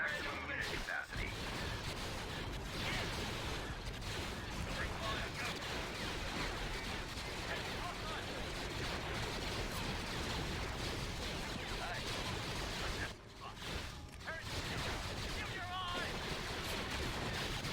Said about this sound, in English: Each artillery shot is taking out a lot of their infantry.